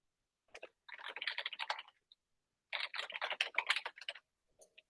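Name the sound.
typing on a computer keyboard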